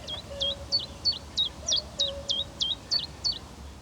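A small leaf warbler repeats a brisk two-part chirp about ten times in an even rhythm, clear and fairly close, over a quiet, low background hum.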